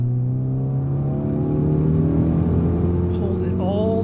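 A car engine tuned with a COBB Accessport is pulled hard in third gear from about 2,500 RPM at full throttle, its droning note climbing steadily and loudly throughout without a break.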